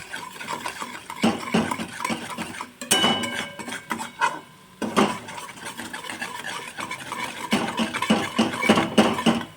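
A spice masala of turmeric powder, red chilli powder and coriander-cumin powder being stirred in a pan, with irregular scraping and rubbing strokes of a spoon against the metal continuing steadily and up close.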